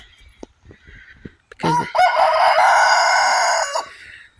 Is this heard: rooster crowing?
yes